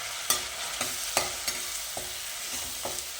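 Onion puree sautéing with whole spices in a pan gives a soft continuous sizzle, broken by a few separate spoon strokes spaced about half a second apart, close and fairly quiet.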